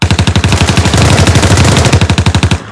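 Rapid, loud bursts of automatic gunfire rattle nonstop for nearly three seconds as several shooters open fire, a dense machine-gun-like stream of sharp cracks close by.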